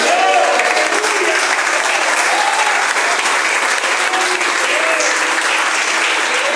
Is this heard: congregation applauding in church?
yes